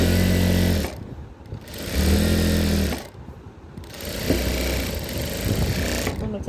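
A sewing machine stitches a pant leg in three loud close bursts of rapid mechanical whirring, each run stopping briefly before starting again.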